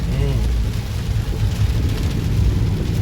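Heavy monsoon rain on Kalavad Road, with tire-deep water on the street, makes a loud, steady broadband roar and rumble throughout, and a voice is briefly heard at the start.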